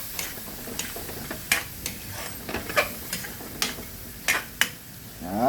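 Pork blood stew simmering in a pot, with irregular soft pops and ticking bubble bursts scattered over a low steady bubbling, close and fairly quiet.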